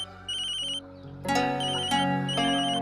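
An electronic telephone ringtone trills in repeated bursts, loud and close, layered over a soft musical background in an Indian TV drama scene.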